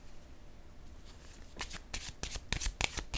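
Tarot cards are shuffled by hand, starting with soft rustling and then building into a series of crisp riffling bursts, close and fairly loud, with no talking.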